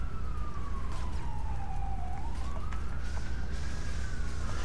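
A police car siren in the video game inFamous, one long wail that slides down and then back up, steady and fairly loud over a dense city background, with no talk.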